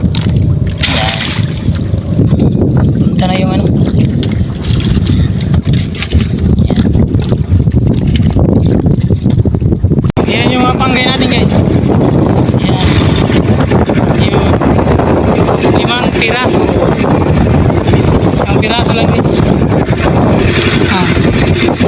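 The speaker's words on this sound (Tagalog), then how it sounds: "Medyo mahangin guys." Strong wind buffets a small fishing boat out at sea, with loud steady gusting and rumbling noise throughout and a person talking over it.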